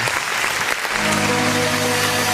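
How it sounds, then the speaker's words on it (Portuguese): A church congregation at a Nova Aliança worship service claps in a dense, continuous wash of applause that sounds close and steady for the whole stretch, with no talking. "Vamos aplaudir o nome do Senhor."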